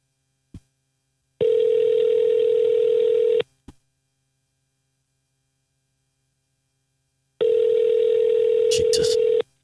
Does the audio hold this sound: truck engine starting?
no